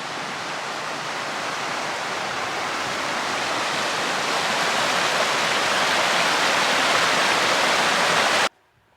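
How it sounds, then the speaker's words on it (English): A steady, full-bodied rush of a stream flowing beside a campsite on the Pacific Crest Trail, loud and continuous and slowly swelling, with no voices, ending abruptly. "Beautiful stream."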